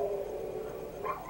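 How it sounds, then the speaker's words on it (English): Several dogs bark and howl at night, heard from indoors through an open window, a steady distant chorus with a brief rise near the end. "Those are my dogs."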